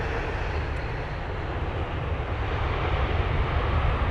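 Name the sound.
airplane landing with reverse thrust at Heathrow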